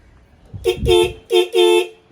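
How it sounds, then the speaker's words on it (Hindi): A faulty Suzuki motorcycle horn gives a few short, uneven toots, broken and sputtering rather than a steady blare, close by. "हॉर्न अभी सही से नहीं बज रहा है, वो क्या प्रॉब्लम है देखना पड़ेगा"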